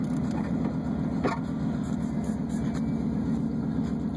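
A cold Chevrolet Camaro Z28 engine idling and moving off, with a steady loud low rumble and a fast pulsing throb, plus a couple of faint knocks on top.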